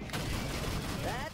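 Rapid gunfire from ship weapons in the space combat game Rebel Galaxy Outlaw, loud and continuous bursts with a short whooshing effect near the end.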